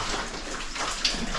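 Water rushes and splashes steadily through a drain tunnel, a close, continuous wash of sound with a brief splash near the end.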